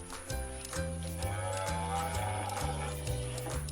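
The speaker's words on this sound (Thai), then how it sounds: "วัวเดินมาทำหน้าเป็นวัวมีเขาข้างหัวร้องมอมอมอฉันคือแม่วัว" A cow's moo is part of a children's animal-sounds song, set against a steady music track with a stepping bassline and a constant high tone, continuous throughout.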